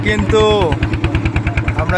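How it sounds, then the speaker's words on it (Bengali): A trawler boat engine near the Sundarbans thumps in a steady rapid rhythm, close and loud, while a person talks over it. "ট্রলার কিন্তু চলতেছে"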